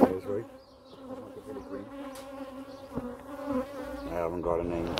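Honey bees buzz around a beehive in a UK apiary, a close, continuous droning hum with individual insects rising and passing, and faint voices in the background.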